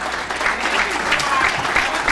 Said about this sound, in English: Give a nice round of applause, everybody.